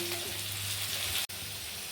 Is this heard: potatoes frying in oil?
yes